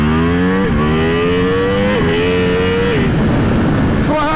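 A Ducati Panigale V4R sportbike rides along country roads, its engine loud and close, revving up through several gear changes with rising and dropping pitch.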